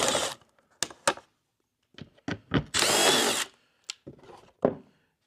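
A power drill backs screws out of a Polaris RZR side-by-side panel, with several short whirring bursts and one longer sustained run, close and loud with no talk.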